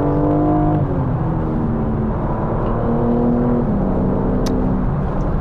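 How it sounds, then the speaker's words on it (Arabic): A BMW M4 Competition engine runs in sport mode, a loud, close, sustained drone whose pitch steps down and climbs again through gear changes, heard alone without any talking. "الصوت الرائع للسيارة، سيمفونية سيمفونية."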